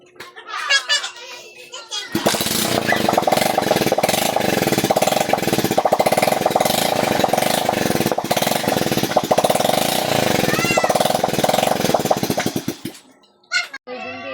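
A skeleton motorcycle with no battery fitted kicks into life after a couple of seconds and runs with a loud, rapid, rattling buzz for about ten seconds before shutting off, with children's voices and talking heard before and after.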